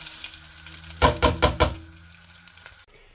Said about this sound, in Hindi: अब चावल डाल देते हैं।